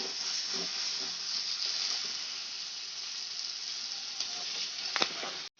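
Water poured into a pan of sizzling chicken curry, giving a loud, steady hiss and bubbling that holds for several seconds and then cuts off abruptly.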